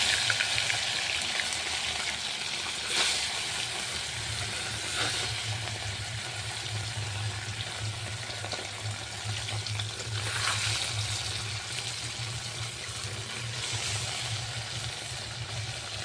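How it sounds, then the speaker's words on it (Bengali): Bata fish fry in hot oil in a home kitchen, a steady close sizzle and hiss with a low crackling bed and occasional bursts of spattering, continuing without talk. "তেল গরম হয়ে গেছে মাছগুলো ছেড়ে দেবো"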